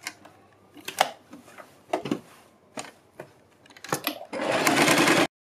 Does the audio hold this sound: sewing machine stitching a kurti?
yes